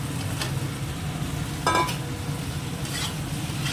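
Fish slid into a pan of frying spice paste loosened with a little water: a steady close sizzle and stirring, with a brief louder splash-like burst near the middle; no talking.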